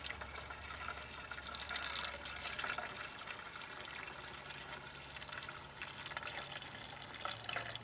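Windshield washer fluid for a 1990–93 Honda Accord pours into a replacement reservoir, making a steady, close gurgling trickle of liquid with splashy fill sounds throughout and no talk.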